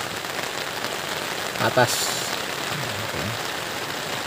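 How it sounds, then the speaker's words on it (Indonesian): Steady rain falls on a mountain trail on Mount Arjuno, reached via Tretes, making a continuous close hiss of drops with a brief voice speaking partway through. "mau ke Lirang tapi cuaca tidak bersahabat karena hujan dari tadi"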